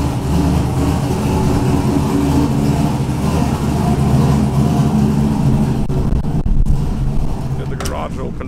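A 1000hp turbocharged Camaro running on E98 fuel sits idling loud and steady in a garage just after a hard start, with a deep low rumble throughout and a brief shift near the end.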